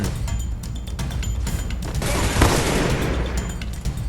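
An M500 handgun fires in a shooter game amid a steady, loud clatter of gunfire and impacts, with a heavier crash near the middle.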